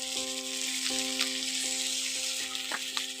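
Chopped tomato fries with ginger-garlic paste in a pan for a potato and pointed gourd curry, a steady soft sizzle with a faint tonal hum and occasional light crackles.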